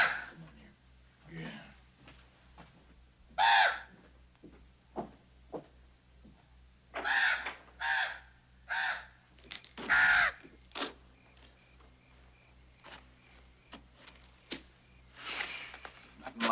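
A crow caws in a Western television episode, several harsh separate calls spread out at irregular intervals, moderately near, over a quiet outdoor background with some breathing-like sounds in between.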